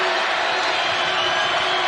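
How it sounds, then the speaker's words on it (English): A basketball crowd at a women's Big 12 Championship game between Iowa State and Texas roars and cheers on its feet, a dense, loud, sustained wash of voices. "The crowd on their feet."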